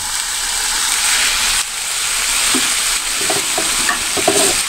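Zucchini frying in a pan with a steady broadband sizzle throughout, while a utensil stirs it with several light scraping clicks toward the end, fairly close and loud, with no talking.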